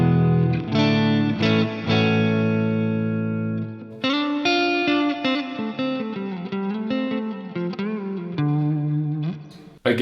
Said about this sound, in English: The next setting we have across is the plate reverb,